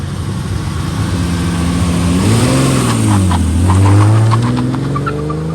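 A 1968 Ferrari 330 GTC accelerates on an open road, its engine note rising and falling through gear changes, loud and steady throughout without any talk.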